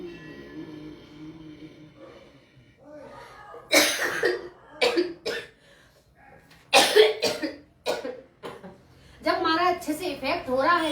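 Repeated coughing bursts during a throat breathing exercise, several harsh coughs in quick clusters, close and loud, with some talking between them.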